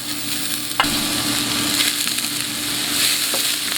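Onions, carrot, celery and garlic sauté with cumin seeds for vegetarian chili, giving a steady close sizzle with occasional spatula scrapes and a sharp clack of a utensil against the pot, no one speaking.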